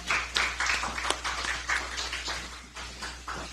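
Scattered applause from a small audience at a political party ceremony held indoors, a few dozen hands clapping unevenly at moderate volume for a few seconds, with a low steady hum underneath.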